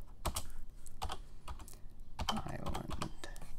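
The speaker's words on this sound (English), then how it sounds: "I'm just gonna type this in" Computer keyboard typing comes in quick clustered bursts of close, crisp key clicks separated by short pauses, with no voices.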